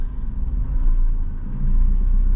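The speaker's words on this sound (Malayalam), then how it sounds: "മുന്നോട്ട് ഞാൻ വാഹനം എടുക്കുകയാണ്" Low, steady engine rumble of a car creeping slowly forward in traffic, heard from inside, with no talking.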